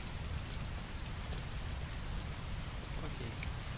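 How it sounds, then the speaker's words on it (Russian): Heavy rain pours in the game Heavy Rain, a dense, steady hiss of drops hitting surfaces that stays loud and unbroken, with no voice over it. "Какой сильный дождь."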